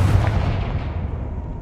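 Blasting spell explosion in a Harry Potter video game, a single deep boom with a rumbling low tail that fades over about a second and a half, close and loud with no voices.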